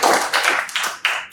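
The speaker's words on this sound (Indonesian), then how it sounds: "Kasih tepuk tangan." A classroom group gives a short burst of applause, a few quick rounds of clapping close by over about a second, with no talking.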